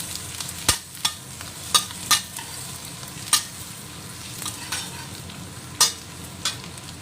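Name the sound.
garlic being stirred and fried in a pan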